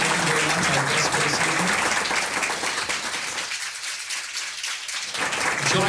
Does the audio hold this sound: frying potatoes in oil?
no